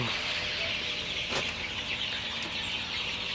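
A flock of 25-day-old Sonali super hybrid chicks cheeps and clucks softly in a steady background chorus, with one brief rustle or flutter partway through.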